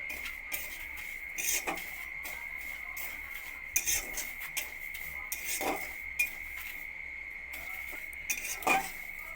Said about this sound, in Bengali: সুজিটাকে আমি লাল করে ভেজে নেব শুকনো খোলায় লাল করে ভেজে নেব